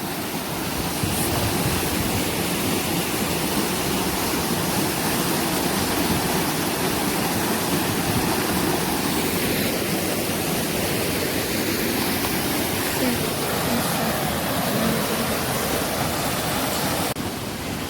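A loud, steady roar of rushing water fills the whole stretch, close by and unbroken, with no voices.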